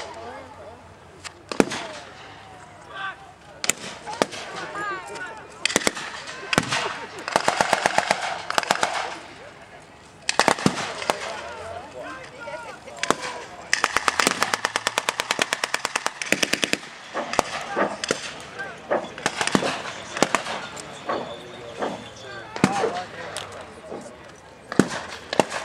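Blank gunfire at a WW2 battle reenactment show: a continuous stretch of sharp single shots and rapid machine-gun bursts. Voices are heard faintly now and then.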